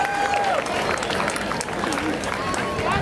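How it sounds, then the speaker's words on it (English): Applause and crowd noise from spectators along a high school homecoming parade route, a steady clapping wash lasting a few seconds, with a thin whistle-like tone briefly rising above it. "Warm round of applause for senior court member Michaela Long."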